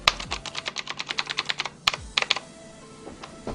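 Someone types rapidly on a Noppoo Choc Mini mechanical keyboard, sharp clicky keystrokes in a quick run, then a brief pause and a few more presses before it tails off. Close and loud, with no voices.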